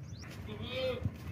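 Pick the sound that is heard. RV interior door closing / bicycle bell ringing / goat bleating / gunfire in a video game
goat bleating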